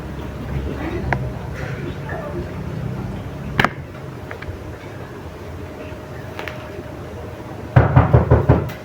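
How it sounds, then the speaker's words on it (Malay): Knocking on a door, a quick cluster of sharp raps near the end following a single earlier knock, with people talking in the background. "Kita ketuk-ketuklah"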